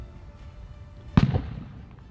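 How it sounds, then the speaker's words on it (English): A single firework bursts with a sharp bang and a brief crackling tail that fades within about a second, heard at moderate distance against a quiet background. "there's firework just went off"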